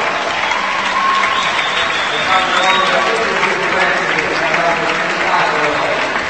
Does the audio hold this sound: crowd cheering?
yes